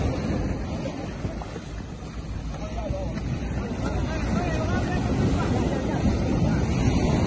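Sea waves surge and wash into a small boat beached on the shore, a loud, steady roar of surf mixed with wind buffeting the microphone, while people talk excitedly nearby.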